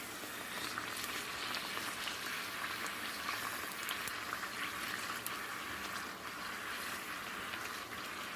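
Puri for pani puri frying in hot oil while pressed down with a ladle, a steady dense sizzle and bubbling that holds at an even level from start to finish, close and without talk.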